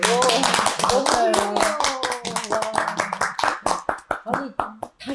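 Listeners at a talk about a Charlotte Mason-style reading club clap sharply and rhythmically, with voices calling and talking over the claps before the clapping thins into a few separate slaps.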